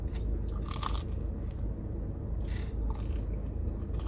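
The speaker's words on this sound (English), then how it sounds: "listen to that crunch." Teeth bite into a crunchy pepperoni pizza crust, giving a few sharp, close crunches over a steady low background hiss.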